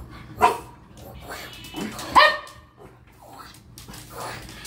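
A dog gives two sharp, close barks a couple of seconds apart, with quieter low sounds in between.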